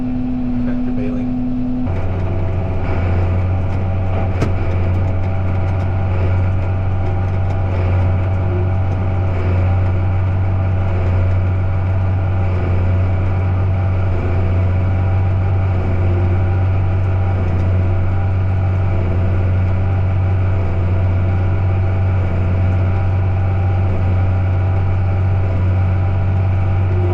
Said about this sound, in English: I don't know if there's any other farm kids out there who like the sound of a tractor baling.